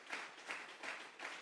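Congregation at a Sunday church service applauding in several rhythmic bursts of clapping, fairly close and steady, with no talk over it.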